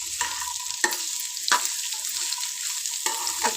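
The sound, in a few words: radish (mullangi) frying and stirring in oil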